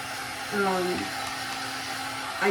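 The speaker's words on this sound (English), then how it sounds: "So I'm cool blasting." A hair dryer blows steadily on the cool setting close by, a constant airy whoosh with a low hum, while a voice speaks briefly over it.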